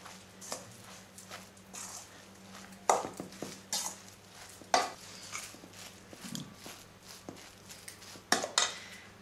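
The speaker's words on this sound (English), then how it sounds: "Alright, now I'm going to mix this really well." Lentil burger mixture with salt, pepper and cumin being mixed in a bowl, making repeated clattering taps of a utensil against the dish in an irregular rhythm, close and fairly quiet with no talking.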